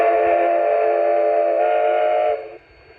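Whistle of an LGB Mikado model steam locomotive fitted with a Zimo sound decoder: a single steady, loud multi-tone blast lasting over two seconds, then cut off abruptly with a short fading tail.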